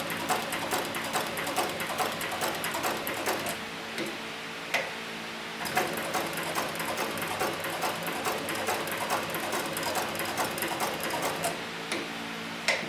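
A cheap, economical leather sewing machine stitching steadily, its needle ticking in a fast even rhythm with a brief pause partway through, close and fairly loud.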